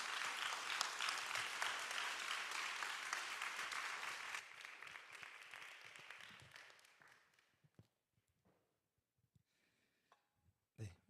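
A church congregation at a young adults' Sunday service applauds to welcome the pastor forward, steady dense clapping for several seconds that dies away into a few scattered claps and room noise.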